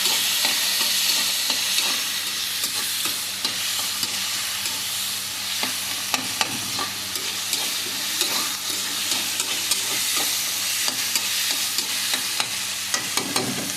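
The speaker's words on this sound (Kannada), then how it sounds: "ಟೊಮೆಟೊ ಚೆನ್ನಾಗಿ ಫ್ರೈ ಆಗಿದೆ" Tomato fries and is stirred in a pan for dhaba-style dal tadka, giving a loud, constant sizzle with scattered scraping and clicking from the spoon.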